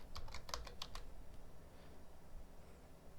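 Quick bursts of key clicks on a computer keyboard, close and fairly quiet, fade into a soft steady background hum.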